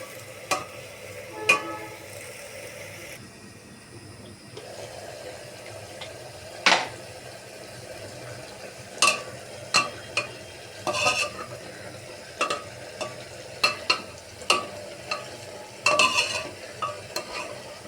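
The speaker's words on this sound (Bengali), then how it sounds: "সবজিগুলো কষানো হয়ে গেছে" Chopped cabbage and pumpkin are stir-fried in a pan, with a low sizzle under repeated sharp scrapes and clanks of a spatula against the metal, coming at irregular intervals and close up.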